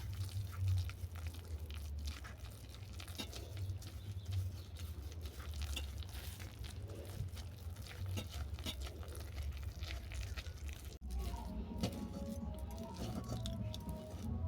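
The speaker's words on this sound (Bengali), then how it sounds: "এই একইভাবে আরও পাঁচ মিনিট আমি নাড়াচাড়া করে নেব" Dry fruit sandesh made with shankhalu (yam bean) is stirred in a pan at home. Continuous soft squishing and scraping runs throughout, with a few light clinks near the end.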